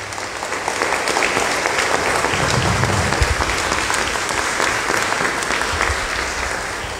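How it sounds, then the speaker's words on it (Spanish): A crowd applauds strongly for San Pedro, the patron saint, at a rosary celebration in Diriamba, a loud, sustained wash of clapping that holds steady from start to finish. "Un fuerte aplauso para nuestro patrono."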